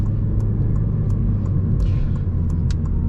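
A 2008 Honda Civic Mugen Si cruising on the road, a loud steady engine and tire rumble heard from inside the cabin, with a few faint clicks and a brief whoosh over the drone.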